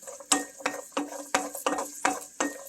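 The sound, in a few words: garlic being stir-fried in a pan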